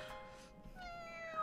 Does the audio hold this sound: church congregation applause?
no